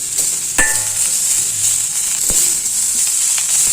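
Karpura garlic sautéing in hot oil for kara kuzhambu gives a close, steady sizzle throughout, with a couple of faint utensil clinks and stirs.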